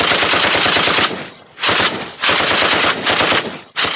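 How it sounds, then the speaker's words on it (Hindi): Loud automatic gunfire from an assault on a plane rips out in rapid machine-gun bursts, several long strings separated by brief pauses, close and dominant with no talking. "फायरिंग की आवाज से सब लोग उस ओर देखने लगे।"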